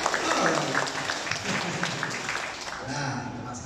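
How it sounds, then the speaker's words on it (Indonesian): Moderate clapping from an audience at a Telkomsel NextDev startup event, with scattered claps and a fair amount of crowd murmur and voices blended in, tapering slightly toward the end. "Oke, tepuk tangan dong untuk NextDev sekali lagi."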